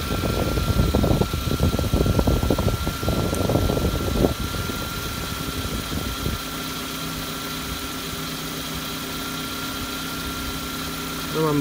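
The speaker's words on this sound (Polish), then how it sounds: "No, silnik na ssaniu, więc troszeczkę może falować." A lawn mower engine runs on choke while driving a car alternator as a homemade generator: a loud, steady idling drone that surges slightly, rougher and denser at first and then settling into a smoother hum.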